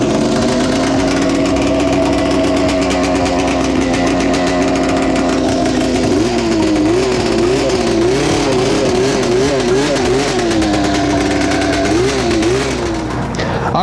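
A Honda TRX440 ATV fitted with a snowmobile engine runs loud and close throughout, its engine holding a steady drone before revving up and down repeatedly as it rides off.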